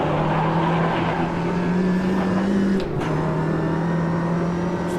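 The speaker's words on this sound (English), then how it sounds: "I'm going to brake as hard as I can." Ginetta G40 cup race car in Automobilista 2, engine droning loud and steady as it brakes hard, pitch falling then a brief gearshift blip near the end, continuous close engine tone.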